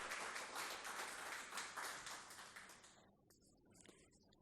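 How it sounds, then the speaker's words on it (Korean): A church congregation in Ho Chi Minh City claps to welcome visiting worshippers, a brief burst of many hands clapping together that fades out after about three seconds, leaving a few scattered claps. "우리 잠깐 자리에 일어나시면 박수로 환영하겠습니다."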